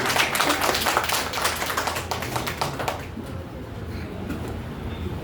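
An audience at a Hindi poetry and book event claps together in a dense burst that fades after about three seconds into quieter room sound.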